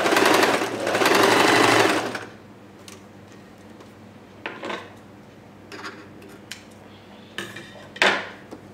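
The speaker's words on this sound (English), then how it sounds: "Only I am stitching 2 layers together." A sewing machine stitches two layers of fabric on an umbrella dress in one loud, steady run of about two seconds, then stops; a few faint clicks and light handling taps of fabric and metal follow.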